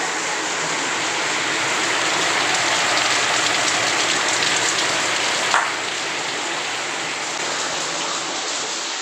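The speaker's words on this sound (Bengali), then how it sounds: "বৃষ্টি তো থামার নামই নেই অনবরত হয়েই যাচ্ছে হয়েই যাচ্ছে" Continuous heavy rain pours steadily on surfaces for the whole stretch, a dense, even hiss with no letup and one brief knock partway through.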